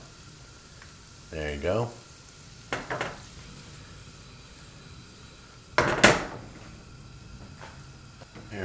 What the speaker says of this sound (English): Drop your onions in there.